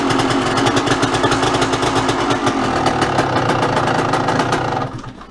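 A dirt bike engine runs in winter just after a hard start, nearly out of fuel, chugging loudly and close in a rapid, uneven pulse before cutting off abruptly near the end.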